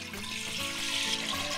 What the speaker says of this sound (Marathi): आता याच्यातच मी पाणी घालून घेणार आहे.